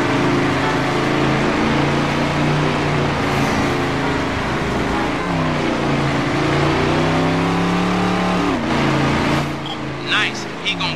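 A Lexus GS430 engine in the Midnight Club 3 racing game rumbles and revs steadily throughout, its pitch rising and falling, with someone talking over it.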